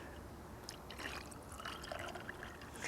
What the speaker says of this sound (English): So you'll pour your Mai Tais into the glass.